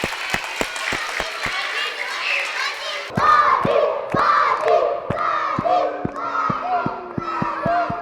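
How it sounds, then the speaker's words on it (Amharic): Children at an Eid al-Fitr celebration at a school clap in a quick, steady rhythm, then the clapping turns into a lively, close crowd of young voices shouting and cheering with scattered claps. "እያጨበጨባችሁ አጨብጭቡ እንጂ አጨብጭቡላቸው።"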